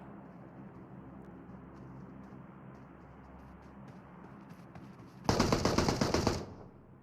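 Gunfire in an esports shooter video game, with a quiet stretch of low ambient hum and faint clicks, then a sudden loud burst of rapid, rattling automatic fire lasting about a second before cutting off.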